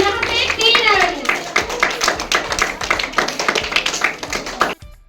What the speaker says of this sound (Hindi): एक बार इसे उत्साहवर्धक के लिए जोरदार तालियां बजाएंगे टीम तरंग के लिए